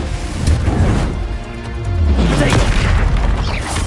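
The Confringo fire-blast spell explodes in the Hogwarts Legacy video game, a loud booming burst with a rushing roar that lingers for a few seconds beneath a voice speaking.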